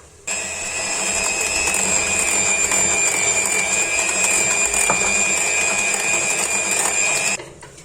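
An electric mixer whirs steadily through chocolate fondant cake batter, a loud, even high-pitched motor drone that starts abruptly and cuts off near the end, with no one talking.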